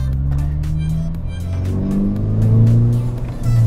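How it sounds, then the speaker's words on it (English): A VW Golf GTI MK6 engine with a cold air intake pulling hard in second gear, with a rising whooshing intake note as boost builds, layered over a steady low drone, loud and close throughout. "You can hear that intake noise as it's building boost."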